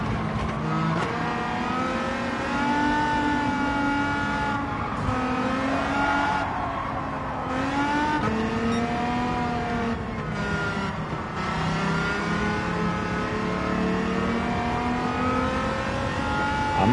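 Amuse 380RS engine in Gran Turismo 7, driven hard in a race: a steady, loud engine note rising and falling through rev changes and gear shifts for the whole stretch, with no talking.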